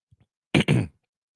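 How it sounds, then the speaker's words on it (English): A person coughs once at close range, a sharp two-part burst with a tiny throat sound just before it, in otherwise silent surroundings. "I always try not to cough in y'all ear like that."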